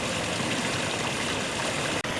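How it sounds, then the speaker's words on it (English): A small waterfall in a turtle exhibit at the Cincinnati Zoo gives off a steady, even wash of falling water that holds constant throughout, with no talking. "Got a nice little waterfall."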